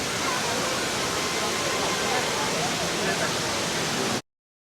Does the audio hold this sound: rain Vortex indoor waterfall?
yes